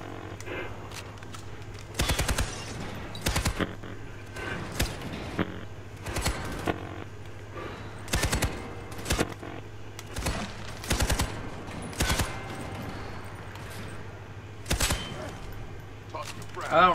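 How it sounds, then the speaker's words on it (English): A 3-round burst weapon fires in Army of Two: The Devil's Cartel, with short clipped bursts repeating at irregular intervals over a low steady hum, loud and close. "I forgot this is a 3-round burst weapon."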